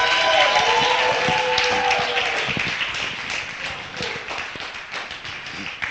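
Audience at a poetry show applauding a poet, dense clapping from many hands that starts full and gradually thins and fades, with a few scattered claps at the end.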